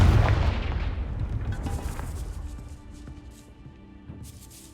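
A Confringo fire spell explodes in Hogwarts Legacy: one loud, close blast that rumbles and fades over several seconds, with faint game ambience behind it.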